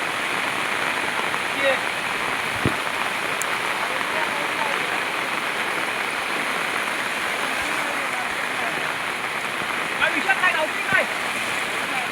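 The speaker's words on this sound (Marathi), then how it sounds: "खूप पाऊस पडतोय" Heavy monsoon rain pours down in a constant broad roar in a coastal Konkan village, with occasional faint voices and a few sharp drips standing out.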